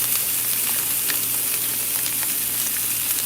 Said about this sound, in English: I'm adding this to the grill.